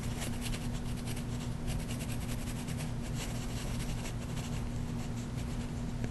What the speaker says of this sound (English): I'm going to draw another heart and fill it in.